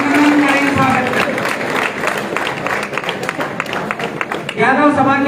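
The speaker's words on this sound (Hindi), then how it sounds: "एक बार जोरदार तालियां बजा करके अभिनंदन करेंगे, स्वागत करें।" Crowd at a Yadav community gathering applauding to welcome a Union minister, a dense patter of clapping that swells and fades, with a voice speaking over it at the start and end.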